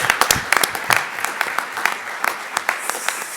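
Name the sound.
audience applause for the startup group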